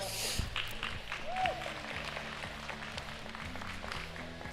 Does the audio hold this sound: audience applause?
yes